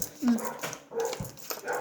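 A household dog barks a few times close by during a tongits card game. People talk over and between the barks.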